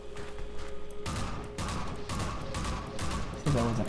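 Sustained gunfire in Half-Life 2 aimed at attacking gunships, dense repeated bursts that cut in and out over a constant roar of battle, loud and close with no clear speech.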